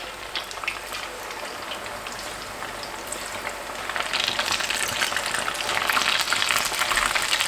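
A batch of chicken pakora sizzles in hot oil in a kadai, a dense crackling fry that grows louder and brighter after a few seconds, steady and close with no voices.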